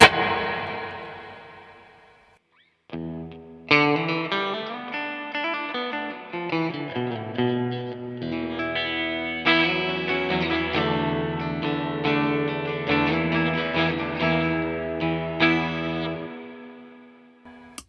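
Distorted electric guitar notes ring out through a heavy reverb effect from a Cuvave guitar pedal, each strum swelling and trailing off in a long, washy tail.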